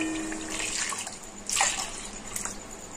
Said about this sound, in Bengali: এবার আমি 2 বাটি জল দিয়ে দেব।